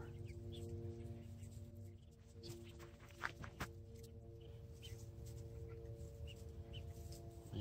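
Newly arrived chickens scuffle and cluck inside a coop, soft low clucking and shuffling under a steady background hum, with a couple of sharper knocks midway.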